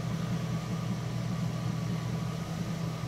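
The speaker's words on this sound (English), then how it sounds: "It sounds about like a 700 RPM idle though." A carbureted 1989 Jeep Wrangler engine idles at a steady low speed of about 700 RPM after a cold start, giving an even, continuous low rumble with a faint hum. It is close and alone, with no talk.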